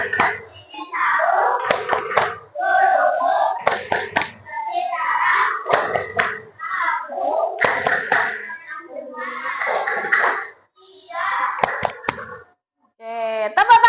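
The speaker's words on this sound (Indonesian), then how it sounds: "Tepuk konsentrasi." Children in a classroom do a rhythmic concentration clap, sharp patterns of hand claps running through about fourteen seconds alongside their chanting voices.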